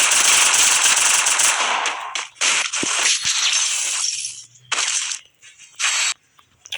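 Rapid automatic gunfire from a video game rattles in loud, dense bursts, then breaks into shorter volleys separated by brief silences.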